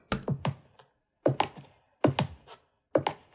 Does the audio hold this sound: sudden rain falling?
no